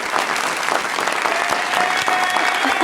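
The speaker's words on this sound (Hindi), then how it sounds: "तालियां" A studio audience at a television talk show claps steadily, a dense, close burst of applause filling the whole moment.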